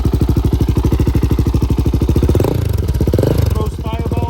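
A Polaris Outlaw 525 ATV engine with a big gun exhaust thumps in close, loud pulses, the beat quickening and roughening as it revs midway before settling back.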